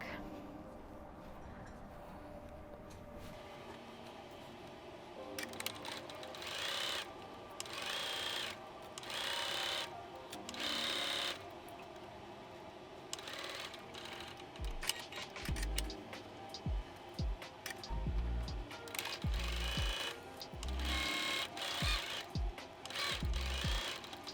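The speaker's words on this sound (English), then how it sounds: "So let's just quickly stitch those front and back." A sewing machine stitches the front and back pieces of a pirate shirt together at the shoulder seams, running in repeated bursts of rapid mechanical whirring separated by short pauses, close and with no speech.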